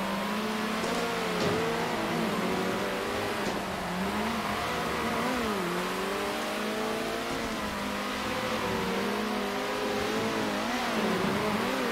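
Race car engine in Circuit Superstars droning steadily as it speeds around banked curves, pitch rising and dipping with throttle changes, continuous and close with no talking.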